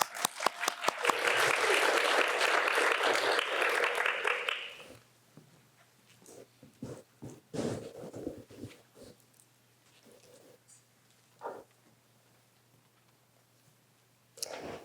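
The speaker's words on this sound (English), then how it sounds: "Let's give her a round of applause." Audience applause at a three-minute thesis finals, a dense burst of clapping for about five seconds that then stops, leaving a quiet room with scattered small noises.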